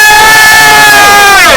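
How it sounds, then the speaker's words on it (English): A crowd at an animal-rights protest camp outside a beagle breeding facility lets out a loud, sustained cheer and shouting that fills the whole moment, with a horn-like tone running through it. "Give us a cheer."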